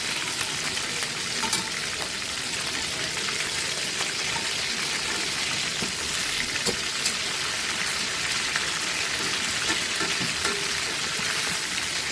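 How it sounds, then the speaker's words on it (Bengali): Chicken roast ingredients fry in a pan with rāndhunī spices, giving a steady, dense sizzle with faint stirring clicks throughout and no talk. "একটু লাল লাল করে আমরা ভেজে নেব"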